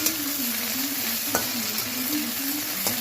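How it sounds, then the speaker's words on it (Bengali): Okra frying in hot oil, a steady close sizzle with stirring clicks and two sharper scrapes of the spoon against the pan. "ঢ্যাঁড়সগুলো এবার একটু ভাজা ভাজা করে নেব, লাল লাল করে।"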